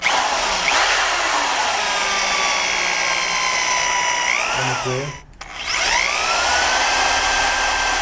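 Power drill boring into a suspension strut component for a Koni Yellow coilover build on a 2006-2011 Honda Civic Si, a loud whining grind that sags in pitch under load, briefly stops, then spins back up.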